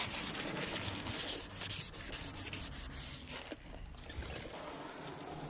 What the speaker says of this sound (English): The second step is to wet sanding the headlights to make it smoother with a 2000 grit